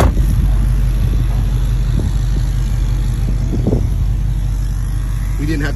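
Car engine running steadily just after the key is turned, a close, even idle drone throughout.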